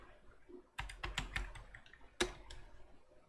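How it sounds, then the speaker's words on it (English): Keys clatter on a computer keyboard as a command is typed into a Linux terminal, a dense burst of quick taps followed by a short pause and a final sharp keystroke, close and clear. "Now simply type apt get upgrade."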